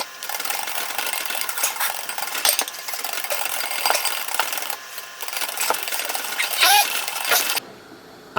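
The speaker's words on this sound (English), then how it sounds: "We can add a little bit sugar and continue the whisk." Cream and sugar whisked by hand in a bowl for homemade ice cream, giving a steady, fast metallic clatter and swish of the whisk against the bowl that runs nearly throughout and stops near the end.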